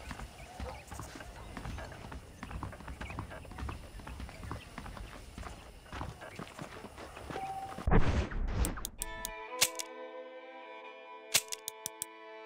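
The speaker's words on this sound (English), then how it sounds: "The horses are saddled up over here." Horse hooves clip-clopping at a walk in the Western video game Red Dead Redemption, a steady irregular patter of soft hoof falls with faint ambience, ending in a brief swell and then sparse clicks over a tonal game backdrop.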